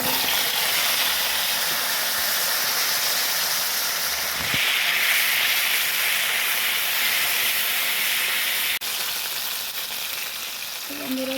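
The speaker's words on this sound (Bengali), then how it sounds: "কচুগুলোও ভেজে নেব।" Taro pieces fry in oil with a loud, dense, continuous hissing sizzle close by, swelling briefly midway and then dipping slightly after a sharp click near the end.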